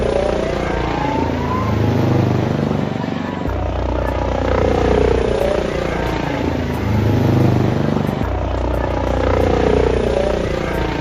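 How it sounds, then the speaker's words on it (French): Helicopter flying nearby, a loud steady rotor drone with slow swells and fades over several seconds, heavy and continuous without breaks, with voices faintly present beneath. "Qu'il y a un putain d'hélicoptère?"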